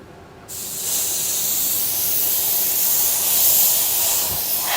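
An airbrush spraying paint gives a steady, loud, continuous hiss that starts abruptly after a brief quiet moment and holds evenly to the end, with no talk.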